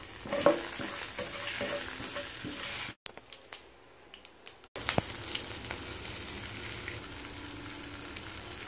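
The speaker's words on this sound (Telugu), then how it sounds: "కరివేపాకు, కొంచెం పసుపు అన్నీ వేసుకున్న తర్వాత వీటిని దోరగా వేగనివ్వాలి." Curry leaves, mustard seeds and turmeric frying in oil make a continuous crackling sizzle with stirring scrapes, broken by a short near-silent gap before the frying resumes.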